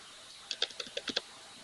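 Typing on a computer keyboard while building a text block in design software: a quick burst of about seven sharp, close key clicks in an otherwise quiet room.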